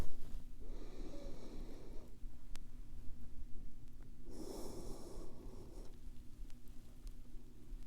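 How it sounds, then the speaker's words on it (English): Slow, deep breathing during a belly massage with a ball, close to the mic: two long airy breaths, each a few seconds long, separated by quiet pauses. "You're going to breathe in, and then you're going to tense up. And then as you exhale, really soften"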